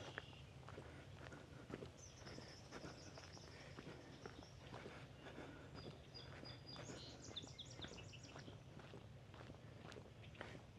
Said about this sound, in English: You hear the sounds of the birds.